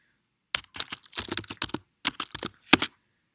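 Keystrokes on a computer keyboard as a short ticker symbol is entered, a quick burst of clustered clicks with brief pauses between, close and fairly quiet, no talking.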